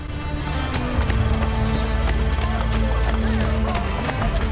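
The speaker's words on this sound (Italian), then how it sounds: "Dammi il cavallo" Horse hooves gallop in a fast, steady clip-clop rhythm in the video game Assassin's Creed Brotherhood, continuous and fairly loud, mixed with game sounds and some talking.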